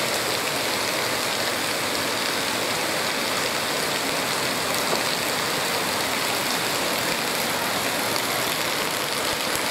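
Steady broadband rush of the Cascata Antônio Monteiro waterfall near Pocinhos do Rio, a constant full roar with no pauses, filling the scene without voices.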